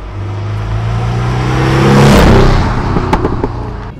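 A Porsche 718 Boxster S with a 2.5-litre engine accelerates past on a track, the engine note rising and swelling loudly as it nears, then fading with a few sharp clicks afterward.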